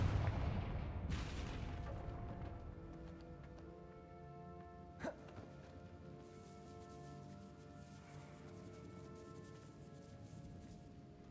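A Confringo blasting curse fires in Hogwarts Legacy, giving one sharp explosive crack in the middle of a quiet, low, ambient game soundscape, with a softer burst near the start.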